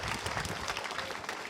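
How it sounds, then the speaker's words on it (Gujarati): Brief, fairly faint applause from an audience at a school opening ceremony in Kundrodi, a short burst of overlapping hand claps with no speech. "તાળીઓના ગડગડાટથી વધાવી આપણે."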